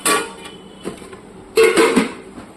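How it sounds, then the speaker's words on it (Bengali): A metal lid clanks off a pot of chicken korma as it cooks: a sharp clatter at the start, a faint tap, then a louder ringing scrape and rattle, close by. "ঢাকনা সরিয়ে একবার দেখে নিচ্ছি।"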